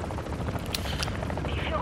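A helicopter in Call of Duty Modern Warfare 2 roars loudly and steadily throughout, its dense rotor noise mixed with sharp bursts of combat.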